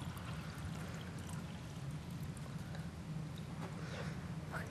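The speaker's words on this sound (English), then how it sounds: "take your water and fill your glass all the way to the very top" Water poured into a drinking glass until it reaches the very top, a soft continuous splashing trickle heard faintly and steadily with no speech over it.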